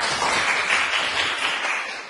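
Dense clapping from a classroom audience, a steady wash of applause that holds for about two seconds and then tapers slightly.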